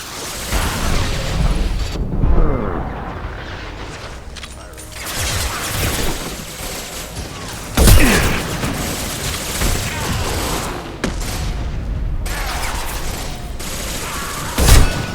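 Gunfire and heavy-weapon blasts fill a Mass Effect 2 battle on Insanity difficulty, with dense bursts, sharp booms near 2, 8 and 15 seconds, and clattering shots running throughout, with a few short voice calls in the mix.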